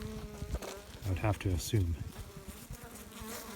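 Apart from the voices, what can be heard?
honeybees buzzing around hives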